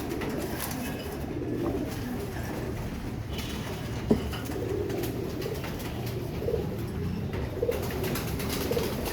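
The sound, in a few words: pigeons cooing in a loft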